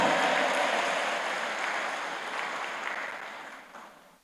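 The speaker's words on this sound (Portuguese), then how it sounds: "Aplauda o Senhor, dê um brado de vitória" Church congregation applauding during a Baptist communion service, broad sustained clapping that starts loud and gradually fades out over a few seconds, with no voices over it.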